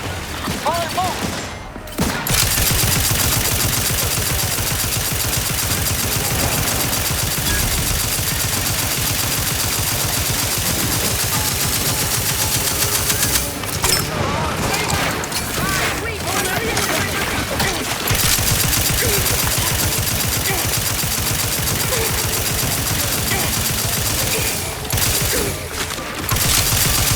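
Heavy gunfire during combat in The Outer Worlds 2, a loud sustained barrage of rapid shots with short lulls and explosive bursts, and voices calling out over the fighting.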